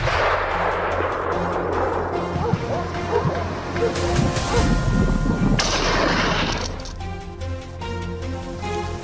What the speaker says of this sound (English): We chased and shot down a few more wild boars.